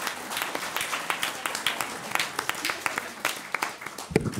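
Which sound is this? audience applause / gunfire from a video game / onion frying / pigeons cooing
audience applause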